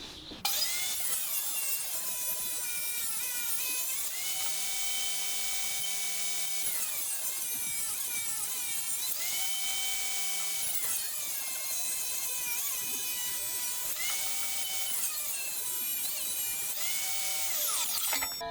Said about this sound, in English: Because I've got the table saw,